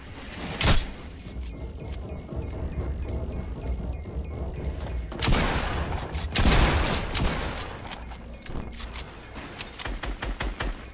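A few sharp gunshots in a mech-filled video game match, one loud crack near the start and a heavier burst in the middle, over a steady background hum.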